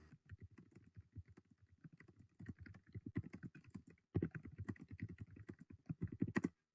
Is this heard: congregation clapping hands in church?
no